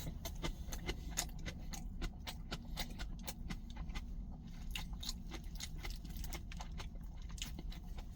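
Napa cabbage kimchi being chewed up close, a rapid run of crisp crunching bites repeating steadily over a low background hum.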